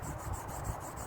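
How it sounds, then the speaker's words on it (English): A knife blade is sharpened on a sharpening stone outdoors, giving a brief, close, continuous rasping rub with a faint rhythmic pulse. "as if I'm slicing the top off the sharpening stone, and then work the entire blade"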